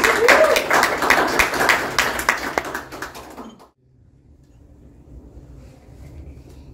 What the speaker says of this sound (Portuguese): uma salva de palmas para Santo Antônio